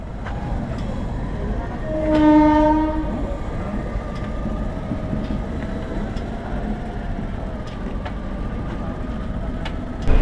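A train passes a railway level crossing near Kanpur in rainy weather, sounding a loud, steady horn blast for about a second, followed by continuous rumbling and wheel clatter from the passing cars.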